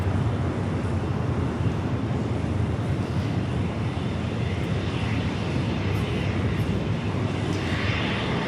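A jet airliner roars steadily and close at Los Angeles International Airport as it lands on runway 24 right, with broadband engine and wind rumble holding level throughout.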